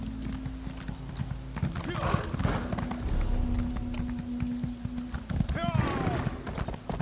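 In the video game Elder Scrolls Online, a horse's hooves clatter in a steady galloping rhythm, with a brief whinny, under a player talking over the game.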